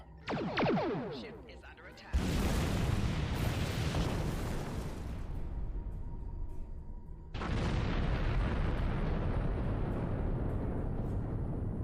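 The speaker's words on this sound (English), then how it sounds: "Photon torpedoes. Maximum yield. Fire!" Photon torpedoes at maximum yield fire and detonate against a sphere in the Star Trek Online space game, with a sweeping launch followed by two sustained, roaring broadband blasts that each hold for several seconds.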